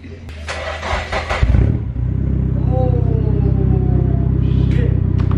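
A car with a Nissan SR engine cranks over on the starter, catches and settles into a loud, steady, throbbing idle rumble close by.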